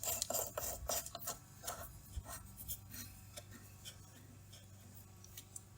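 A plastic ring threaded back onto the fuel filter bowl of a 2022 John Deere 2025R Gen 2 compact tractor gives soft, close rasping and rubbing scrapes, busiest at the start, over a low steady hum.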